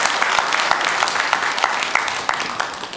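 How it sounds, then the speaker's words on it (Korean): A church congregation at a Sunday morning service breaks into applause, a dense, fairly loud wash of many hands clapping that carries evenly through the moment. "감사의 박수를 우리 하나님께 올려드리겠습니다."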